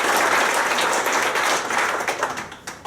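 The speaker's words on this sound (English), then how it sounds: "so we'll give a round of applause for Todd and Billy Venus." Crowd applause at a city council meeting honoring an adaptive reuse award, a dense wash of clapping that holds steady and then thins out toward the end.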